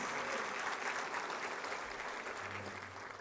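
Audience applause at a State of the City address honoring a council member, a dense, sustained clapping crowd heard from a distance that tapers off slightly near the end.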